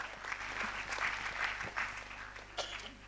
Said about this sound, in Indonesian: beri tepuk tangan sekali lagi yang meriah buat Pak Dubes